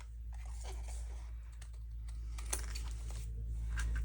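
Good scissors cut along the edge of a paper index journaling card, making a string of crisp, close snips and crunchy clips over about four seconds against a low steady hum.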